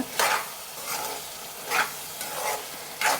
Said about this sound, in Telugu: ఒకసారి మంచిగా కలుపుకుందాం